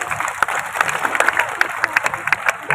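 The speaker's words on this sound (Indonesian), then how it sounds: "tepuk tangan deh." An audience at a religious gathering claps in scattered, uneven bursts, moderately loud, with some crowd noise and voices mixed in.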